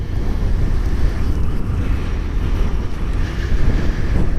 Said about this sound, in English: God, it's windy, very windy, crazy windy.